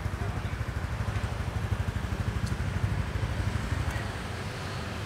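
A Honda Winner X motorcycle idles on its stock exhaust, a steady low pulsing putter close by that holds an even rhythm for several seconds before easing slightly.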